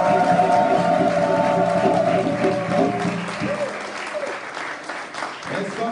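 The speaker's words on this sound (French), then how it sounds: "Est-ce qu'on peut acclamer Jésus plus fort?" A church congregation at a Sunday service in Paris applauds and cheers for Jesus, with dense sustained clapping and crowd noise under a sung or spoken voice, the applause fading slightly toward the end.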